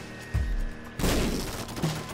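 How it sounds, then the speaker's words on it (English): Explosion firing out nails in the video game The Binding of Isaac, a pair of quick booming blasts followed by crackling bursts and a smaller thump, moderately loud over a steady game background. "And it's just cool, that explosion. Freaking nails coming out of it."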